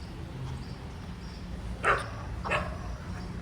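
Dogs barking in a residential street, two short faint barks at a distance over steady ambient street noise.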